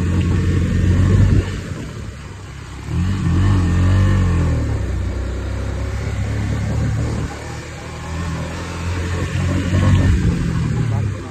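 A motorcycle engine revs on a rough village road, its low, rough drone swelling and easing several times and staying loud throughout.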